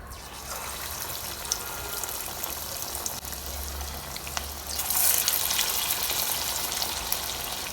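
Urad dal vada batter frying in hot oil gives a steady, dense sizzle that stays close and loud throughout, with a brief surge of bubbling near the middle and no voices.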